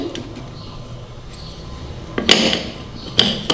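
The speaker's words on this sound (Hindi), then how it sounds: "थोड़ी सी आइस भी डालेंगे इसके अंदर।" Ice cubes drop into a blender jar holding a KitKat and Oreo milkshake, making two bright clattering clinks a second apart after a quiet start.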